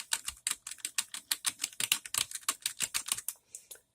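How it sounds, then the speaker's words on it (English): Typing on a Dell L100 membrane keyboard, a quick run of sharp, fairly loud key clacks in an uneven rhythm, close up and alone, stopping briefly near the end. "just typing if you want non-mechanical keys. So these are still pretty loud."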